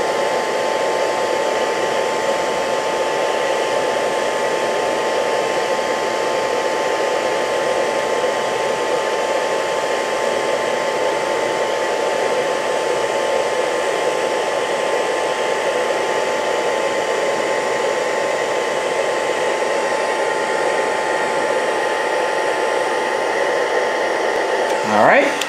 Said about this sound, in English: as the reaction calms down, I can get the hairdryer closer and closer